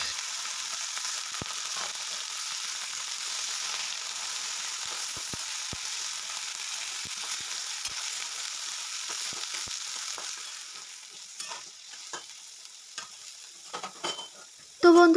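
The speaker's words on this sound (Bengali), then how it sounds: "যে কেটে রাখা যে ছোট ছোট বেগুনগুলো ছিল, সেগুলো আমি এখানে একইভাবে লালচে করে ভেজে নেব" Small cut eggplant pieces frying in hot oil, a soft continuous sizzle with scattered crackles and occasional stirring clicks, growing a little busier near the end; no voices.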